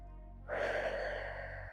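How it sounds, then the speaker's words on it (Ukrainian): A deep inhale through the nose during a morning home workout sounds as one long, close airy breath that starts abruptly and holds steady over a low hum, with no voices. "Вдих."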